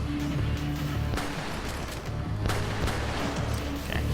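Gunfire in the shooter Wrack, a fast stream of crackling shots and sharp bursts over dense game noise and a droning tone, with a few louder hits standing out.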